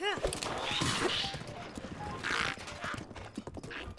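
A horse gallops in Zelda Breath of the Wild, its hooves clip-clopping in a quick rhythm under dense game sound and a voice talking over it.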